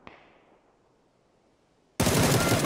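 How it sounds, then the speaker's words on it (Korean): Video game gunfire: a faint shot fades at first, then a sudden loud burst of rapid automatic fire erupts near the end, close and harsh. "이 앞에 총소리!"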